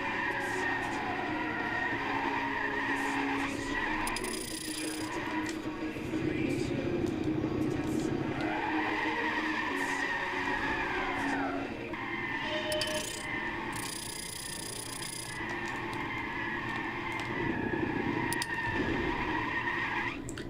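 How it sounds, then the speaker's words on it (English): A racing car in Gran Turismo 6 drives at high speed in reverse, a loud sustained engine whine that rises and falls with steady road noise, with someone talking over it. "I'm going 200 miles an hour in reverse."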